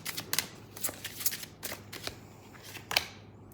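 Tarot cards being shuffled close by, a run of quick, crisp riffling bursts and soft slaps with short pauses between them, no talking.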